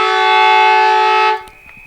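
A loud, sustained siren sounds to end a quarter at an amateur Australian rules football match between Nelson Bay and Warners Bay, a steady blaring horn that cuts off abruptly, leaving faint ground noise.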